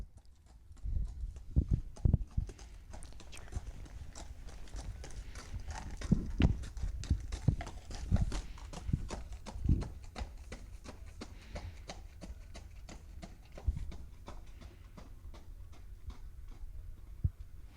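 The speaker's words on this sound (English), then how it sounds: "We'll then watch him trot away from us and trot back." A horse's hooves clip-clop in a steady two-beat trot on a hard surface, moving away and then returning, with quiet background outdoors.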